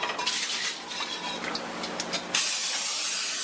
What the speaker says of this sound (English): That was an angry spray.